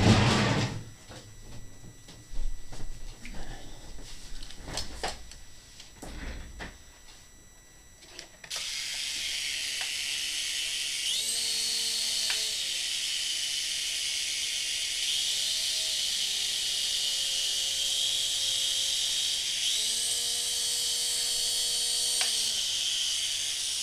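A small RC helicopter rotor motor on a throttle-modified Propel Silver Bullet spins up to a steady high whine with a hiss, its pitch dipping and rising a few times, after some clattering handling noises.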